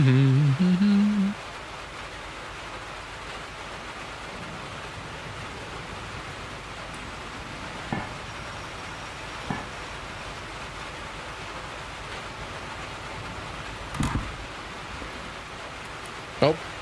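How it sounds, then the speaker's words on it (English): Rain drumming on a metal roof in the Derail Valley VR train game, a steady hiss of rainfall filling the scene with occasional faint knocks, after a brief voice at the start. "There's a tin roof. Or metal, rather. What pleasant sound, that rain."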